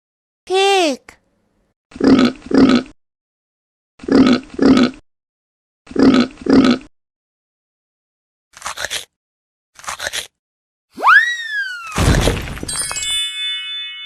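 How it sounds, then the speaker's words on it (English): A cartoon pig grunts in three quick double oinks in a children's animated learning game, after a short chirp, then gives way to brief blips and a rising arcade-style sound effect ending in a crash. "pig,"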